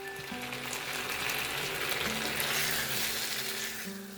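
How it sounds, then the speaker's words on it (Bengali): Boiled potatoes with turmeric and salt fry in hot mustard oil in a wok over medium heat, giving a steady, dense sizzle that holds even throughout with a faint low hum beneath. "মিডিয়াম হিটে আলুগুলোকে ভেজে নিয়েছি"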